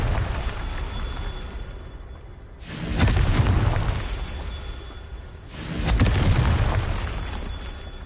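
Two Confringo fire spell explosions go off in Hogwarts Legacy, each a heavy whooshing boom a few seconds apart that swells and then slowly fades over a steady ambient hum.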